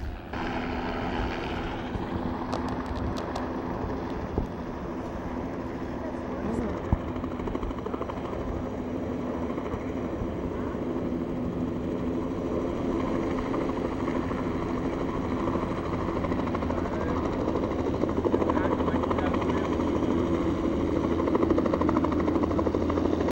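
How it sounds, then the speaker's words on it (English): A state trooper helicopter flies in near an airport, its rotor and engine roaring steadily and loudly throughout, building slightly as it approaches, with no talk over it. "Right now, the state trooper helicopter is flying in."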